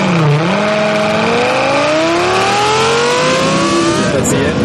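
A car engine accelerates hard on a racetrack, its loud, close, steady pitch climbing through the revs with a brief shift near the end and no pause in the roar.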